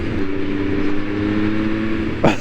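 Sport motorcycle engine holding a steady, loud rev with a rising whine near the end, continuous and close throughout.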